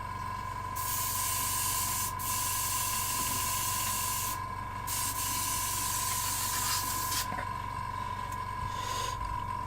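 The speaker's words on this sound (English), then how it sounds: "Just clean this out and put the airbrush away." An airbrush being cleaned out sprays in steady hissing bursts with brief pauses between them, accompanied by a constant high whine in the background and no talk.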